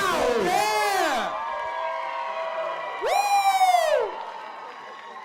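A crowd at a celebrity dance-off cheers and whoops for dancers in two loud bursts, with high, sliding shouts and whistles over a steady roar of the audience.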